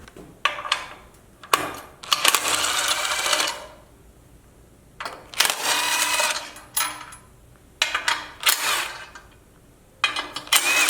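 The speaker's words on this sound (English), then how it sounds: "go ahead and take these 4 bolts off right here" Bolts coming off a beadlock wheel with a power tool, heard as repeated loud whirring bursts of a few seconds each with short gaps, close up, no talk.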